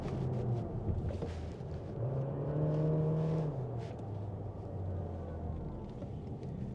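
A Volkswagen 1.5 TSI petrol engine in a VW Tayron eHybrid idles and hums steadily at close range, with a low droning tone that rises and falls slightly as it revs gently.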